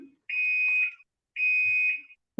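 A car alarm somewhere outside gives two long, steady electronic beeps, each just over half a second, separated by a short pause and heard alone.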